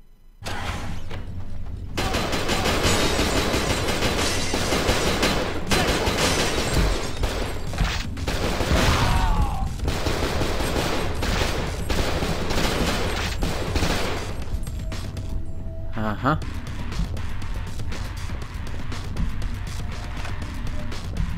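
Sustained gunfire in the game Cold Fear, dense rapid shots and crashing impacts running nearly continuously, loud and close, with a short lull toward the end.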